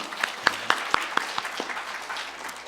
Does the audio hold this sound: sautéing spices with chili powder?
no